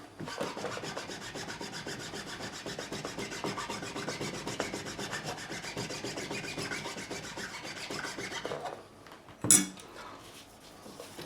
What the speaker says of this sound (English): we're going to take a fine file, flat side down